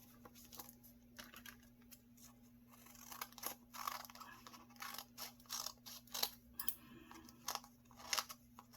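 Scissors snip repeatedly, trimming the edges of junk journal pages made from a 6x9 envelope, giving close, quiet crisp cuts in irregular bursts against a faint steady background hum.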